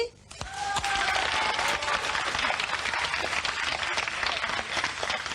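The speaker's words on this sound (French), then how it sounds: "On applaudit?" A live radio studio audience on Europe 1 bursts into applause after a brief pause, the clapping swelling quickly to a loud, sustained, dense wash, with a faint voice briefly heard at the outset.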